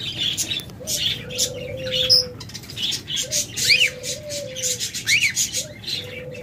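Tame cockatiels at home, sold in pairs, give repeated sharp chirps and whistles with short bursts of fluttering wings. The calls come close and clear in an uneven rhythm, with a low hum behind them and no speech.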